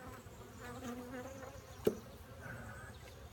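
Honey bees from an open hive under inspection buzz in a steady, close swarming drone, with one brief sharp knock partway through and no voices.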